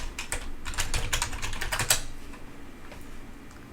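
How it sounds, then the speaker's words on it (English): Rapid keystrokes on a Microsoft Natural Ergonomic Keyboard, a dense burst of close clicks for about two seconds, then thinning to a few scattered taps over quiet room noise. "the keyboard is a Microsoft Natural Ergonomic Keyboard"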